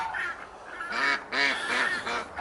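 A goose in the yard honks repeatedly, several nasal, harmonic calls in quick uneven succession, close and loud, with no talking.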